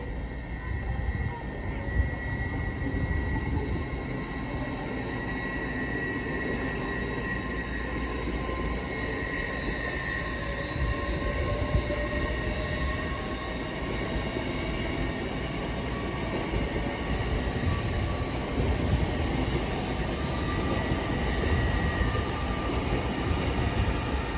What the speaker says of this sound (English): LNER Azuma service from Edinburgh Waverley to London King's Cross